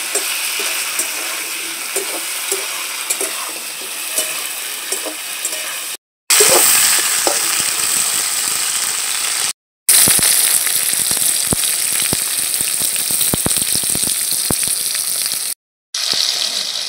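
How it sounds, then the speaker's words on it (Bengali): Sliced potatoes and pointed gourd frying together in a pan with black cumin, a loud continuous hissing sizzle with rushing, gushing texture and occasional crackles, broken by brief cuts to silence, no speech. "কেটে রাখা পটল আলু সব একসাথে ভেজে নেব।"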